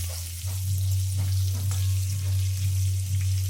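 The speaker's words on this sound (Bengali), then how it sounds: "এবার পটলগুলোকে বেশ উল্টে পাল্টে ভালো করে ভেজে নিতে হবে।" Pointed gourd (potol) pieces frying in oil in a pan, a steady broad sizzle with a low constant hum beneath and occasional soft stirring scrapes as the pieces are turned.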